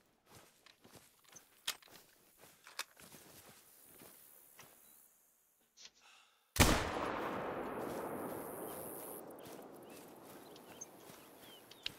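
In theHunter: Call of the Wild, a hunting rifle fires one sharp, loud shot partway through, its long rolling echo fading afterward, preceded by scattered footsteps and soft rustles; nobody talks.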